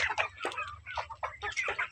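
Chickens cluck in short, soft bursts, several quick calls spaced across a couple of seconds, fairly close but quiet.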